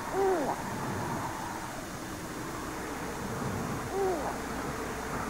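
A great grey owl in a forest near Winnipeg, Canada, gives two soft hoots about four seconds apart against a steady low background hum.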